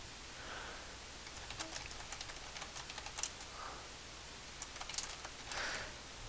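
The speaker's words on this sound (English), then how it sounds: "After typing that in" Quiet typing on a computer keyboard while entering server settings, with short irregular bursts of soft key clicks and brief pauses in a still room.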